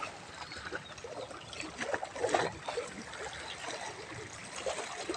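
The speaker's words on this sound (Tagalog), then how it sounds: "Lumakas ang alon. May dumaan na speedboat." Choppy waves slosh and splash along a shoreline fishing spot after a speedboat passes offshore, a steady watery wash with a few louder surges and no talk.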